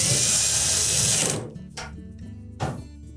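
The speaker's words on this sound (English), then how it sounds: "Then we'll push the panel up against the support bracket and secure it with at least 1 screw" A power driver tightening a screw on a Samsung dryer panel, a loud steady whir that stops abruptly, followed by two short quieter bursts and faint handling noise.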